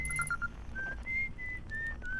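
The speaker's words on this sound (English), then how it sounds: "You appear to be whistling." A game character in Outer Wilds whistles a short tune in clear pitched notes, some quick and some held, with quiet background hum.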